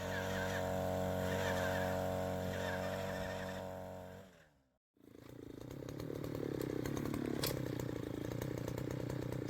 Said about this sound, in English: Carlo is drilling holes for another winter project we have in mind